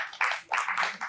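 Audience clapping for a child on a kids' TV show, arriving in two or three broad bursts of claps at moderate loudness with no voices on top.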